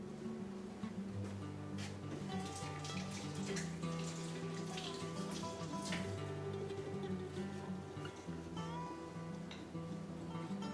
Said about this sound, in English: I'll rinse my hands and then we'll start browning.